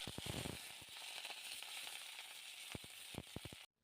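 Washed onion stalks drop into hot oil in a wok and fry with a loud, steady sizzle, broken by a few clattering stirs near the start and end before the sound cuts off abruptly.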